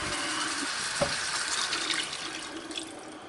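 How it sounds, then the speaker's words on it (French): Half a litre of water poured into a lemon chicken dish makes a steady, close splashing rush for about three seconds, easing slightly toward the end. "On va mettre le demi-litre d'eau."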